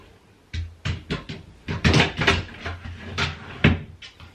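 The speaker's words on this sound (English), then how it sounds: "I will try and fit some of the drawers in to see if it fits properly or not" Wooden drawers are slid and pushed into a bedside nursery unit, giving a series of sharp knocks and sliding bumps, close and distinct, in uneven bursts with short pauses between.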